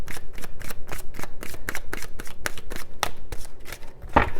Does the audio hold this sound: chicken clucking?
no